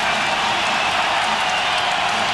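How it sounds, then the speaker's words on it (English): A packed crowd at the Chicago Bulls' arena during a 1995 playoff game against the Orlando Magic stands and applauds, giving steady, loud, unbroken clapping and cheering with no pause. "This crowd has just gotten to its feet and is applauding their team."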